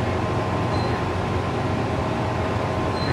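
Steady rumble of a Tobu local train rolling along the rails between Tobu-Nikko and Kinugawa-Onsen, a constant low drone with faint higher whines, no voices.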